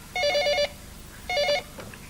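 A telephone rings two short bursts with a pause between, a bright electronic bell in a busy head office, fairly close and alone with no talk.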